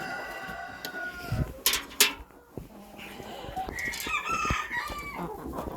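Hens and a rooster in a poultry house give clucks and squawks. A loud crow rises near the middle, and the flock's chatter carries on throughout.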